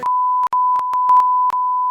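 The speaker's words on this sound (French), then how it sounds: "On va faire plein de bips comme si on dit des dingueries" A steady censor beep tone plays loud and close for two seconds, broken by brief clicks and one short gap.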